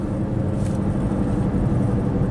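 A Volvo car with a turbo engine drives along, its engine and road noise forming a steady, even mid-level rumble throughout, with no talking.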